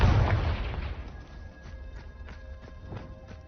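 A Confringo blasting-spell explosion in a Harry Potter video game, one heavy boom at the start that decays into rumbling, followed by a few faint crackling impacts.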